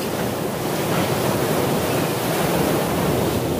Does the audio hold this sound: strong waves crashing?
yes